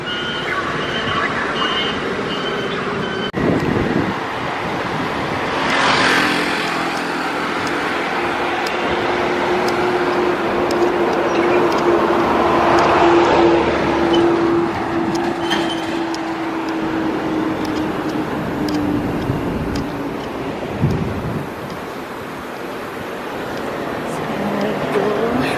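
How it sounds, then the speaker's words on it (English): Road traffic of many cars passing, heard as a continuous whooshing rush with engine tones swelling and fading, plus a sustained tonal whine mid-clip; loud and fairly close. "A lot of cars"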